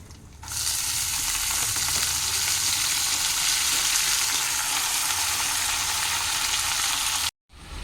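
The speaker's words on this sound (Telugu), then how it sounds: "తోటకూర అయితే ఫ్రైలో పోపులో అయితే వేసేసుకుంటాను." Washed amaranth leaves hit hot oil in a tempering pan with a loud, steady sizzle that spits and crackles for several seconds, then cuts off briefly near the end.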